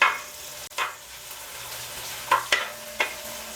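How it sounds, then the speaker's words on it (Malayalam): Onion and tomato sauté in a pan with a soft steady sizzle, punctuated by a few sharp scrapes and clinks of a stirring spoon, close and brief with no talk. "ഇനി നമുക്കിത് ചെറുതായിട്ടൊന്ന് വഴറ്റി കൊടുക്കാം."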